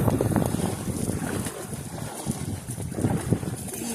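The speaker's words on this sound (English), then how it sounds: "Even against the wind, you're cruising in this thing." Wind buffeting while a fishing kayak cruises against it, a steady rushing noise with low gusty thumps on the microphone, close and continuous.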